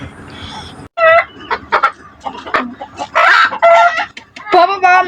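A hen clucks loudly and close by in a run of short, repeated calls with brief pauses between them, and faint voices can be heard in the background.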